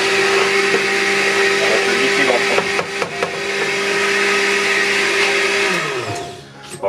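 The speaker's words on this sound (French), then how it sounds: "Je vais remettre un petit coup de mixeur." An electric kitchen mixer blends a boilie fishing bait mix made without fresh eggs, giving a loud, steady motor whine with some rattling and knocks, then winding down near the end.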